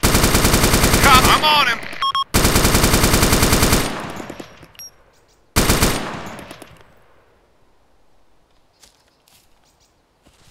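Automatic machine gun fire in the military video game Arma 2, loud sustained bursts at close range that cut off abruptly and then fade, with a short final burst; a voice speaks briefly over the shooting.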